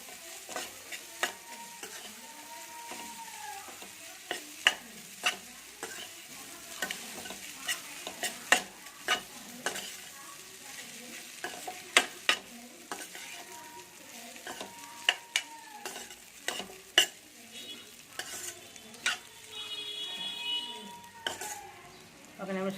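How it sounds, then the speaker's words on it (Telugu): Butter and ajwain rice stirred in a pan on the stove, with repeated sharp scrapes and clinks of a spoon against the metal over a faint, steady sizzle, close up. "ఒకసారి బాగా కలపాలి."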